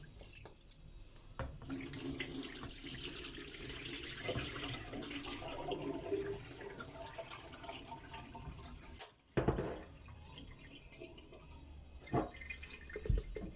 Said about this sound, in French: je continue à rincer mon riz